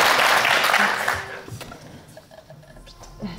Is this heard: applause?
yes